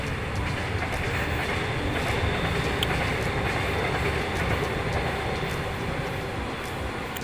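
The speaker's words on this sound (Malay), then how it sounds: "LRT lalu." An LRT light rail train passes by on an urban line, a steady rumbling roll with faint clicking wheels, moderately loud and continuous throughout.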